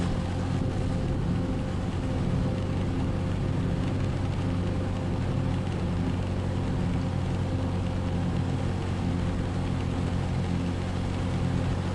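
A small Honda 150cc motorbike with a passenger riding on rough, potholed roads in Bali: a steady, loud engine drone with road and wind roar, unbroken throughout and no talking.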